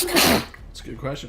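A single loud, close sneeze at the start, followed by someone talking quietly.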